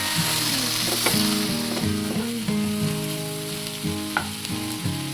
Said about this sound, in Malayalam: ചിക്കൻ ചേർത്തതിന് ശേഷം ഒന്ന് നന്നായി ഇളക്കി മസാല എല്ലായിടവും പിടിപ്പിക്കണം.